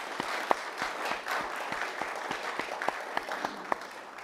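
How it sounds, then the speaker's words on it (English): Audience applause for student presenters at a Grad Slam research presentation event, a steady wash of clapping from a seated crowd with a few sharp, nearby claps standing out, lasting the whole stretch without talk. "Can we have a round of applause for these fantastic students?"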